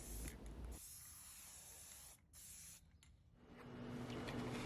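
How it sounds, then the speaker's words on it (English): A spray can of matte acrylic sealer hisses outdoors onto conversation-heart decorations for a faux cake, a steady close spray in several bursts with brief pauses between them. "take my conversation hearts outside and spray it with some matte acrylic sealer"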